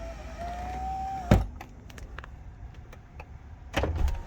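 A Corvette C5's door lock actuators fire with a sharp mechanical clunk, then clunk again a few seconds later. A thin motor whine comes before them, and nobody speaks.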